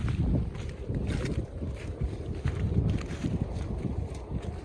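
A strong wind blows across an open summer mung bean field, producing a continuous low rumbling buffet against the microphone with no speech.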